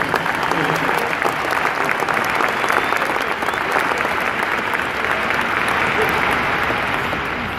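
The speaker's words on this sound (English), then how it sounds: "go ahead and give that a round of applause." An audience claps together in sustained, loud applause that holds steady for several seconds before starting to taper.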